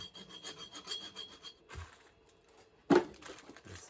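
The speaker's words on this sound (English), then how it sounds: "on the yoke, you're gonna have to clean the burrs out on the yoke as well" Burrs are scraped and filed out of a U-joint yoke from a Chevy Silverado 2500 driveshaft, giving steady close rasping strokes that pause, then a sharper metallic scrape near the end.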